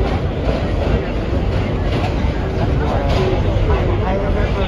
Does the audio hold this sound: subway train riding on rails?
yes